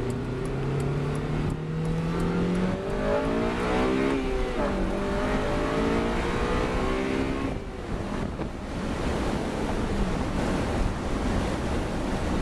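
A Honda car engine revs through VTEC while driving, the pitch climbing in rising sweeps before dropping off, heard from inside amid heavy wind and road rush.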